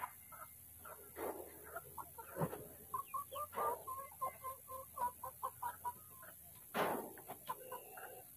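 Chickens on a backyard farm clucking in a rapid series of short, close calls, with a few louder squawks standing out over a quiet background.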